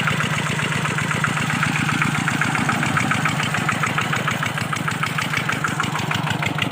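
A water pump engine pumping water onto farmland runs steadily and loudly throughout, with a continuous, even chugging drone and no clear pauses.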